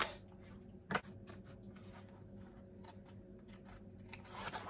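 Scissors cutting fabric for a sewn bag, quiet close snips and rubbing strokes spaced irregularly over a faint background hum.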